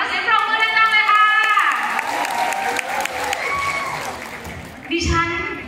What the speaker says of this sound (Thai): เสียงปรบมือดังๆเลยค่ะ